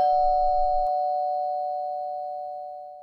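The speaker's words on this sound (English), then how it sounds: "somebody rang the bell and ran away" A house doorbell sounds a single sustained electronic chime tone that rings on and slowly fades away, clear and alone with no voices.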